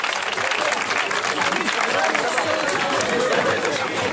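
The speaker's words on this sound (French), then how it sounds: "j'aimerais que tout le monde applaudisse pour la mairie d'Étré" A crowd applauds the town hall of Aytré at an outdoor charity color run, a dense, steady wash of clapping with cheers and chatter mixed in, loud and sustained throughout.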